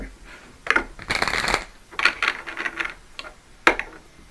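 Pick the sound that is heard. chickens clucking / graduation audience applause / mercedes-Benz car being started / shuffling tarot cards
shuffling tarot cards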